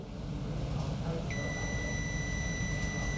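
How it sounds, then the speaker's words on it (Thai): A multimeter continuity tester on stepper motor wires gives a steady, sustained beep that begins partway in and holds to the end over a constant background hum, with no talk. "ผมจิ้มแล้วเสียงดัง มีเสียงดังปี๊บขึ้นมา"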